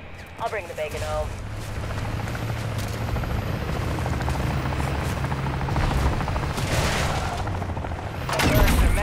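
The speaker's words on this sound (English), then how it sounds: "the mercs have scrambled a bloody helicopter" A helicopter's rotor thumps steadily amid Call of Duty game effects, with distant booms and bursts of gunfire, and a voice briefly heard at the start.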